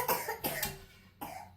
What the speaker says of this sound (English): You can't cough on the food